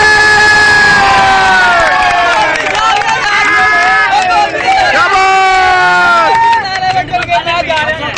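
A crowd at a street talent show in Pakistan cheers, shouts and claps loudly and continuously, with excited voices and children's yells throughout and a rising whoop near the end.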